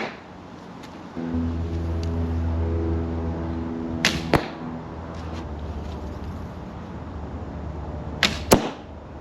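A bow shooting arrows at a target: a steady drone runs underneath, then two sharp arrow releases and impacts strike around four seconds, with another close pair near the end.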